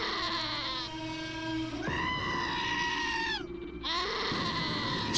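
Goat bleats from the Wasteland 2 video game, two long wavering cries in a row with a short break between them, close and loud over a low background hum.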